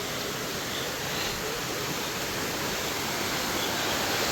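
Small waterfall in Malappuram, a steady broadband rush of falling water with no breaks, loud and close throughout.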